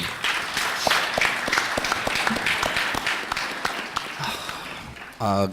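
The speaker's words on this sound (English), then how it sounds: "Let's give him a round of applause." A panel audience gives a short burst of applause for a speaker, scattered claps sounding in a room for a few seconds before a voice comes in at the end.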